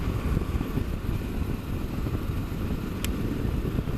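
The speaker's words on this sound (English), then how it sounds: "An early autumn ride on my CL500." Honda CL500 motorcycle out on an early autumn ride past Dalton Park, a steady low engine drone mixed with broadband wind rush, constant and close throughout with one brief high blip near the end.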